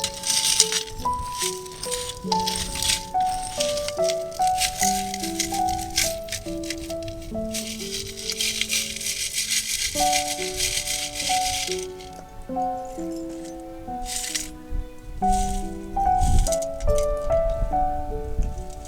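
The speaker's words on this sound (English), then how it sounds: "I am going to try some sieving with our new Endicott's laboratory test sieve that we found at our local market." Loose beach finds and sediment rattle and scrape steadily in a laboratory test sieve on a beach, a continuous shaking sound under background music throughout.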